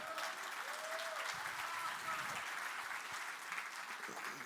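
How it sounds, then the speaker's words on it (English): A conference audience applauds during a talk, a continuous dense wash of clapping at steady level, with faint voices and a few tonal murmurs mixed underneath. "You can applaud to that."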